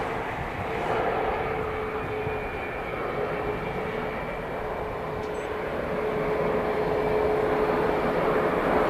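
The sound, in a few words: aircraft engine at Manchester Airport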